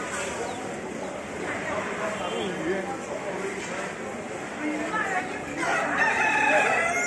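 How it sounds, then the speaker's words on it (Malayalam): Native rooster crowing amid a busy market crowd at Paddy's Market, Flemington, Sydney, its calls rising over steady chatter and bustle, with a louder burst toward the end. "നാടൻ കോഴിയാണ്, നാടൻ കോഴി."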